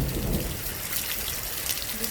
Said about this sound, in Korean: 갑자기 천둥과 함께 세찬 빗줄기로 변했습니다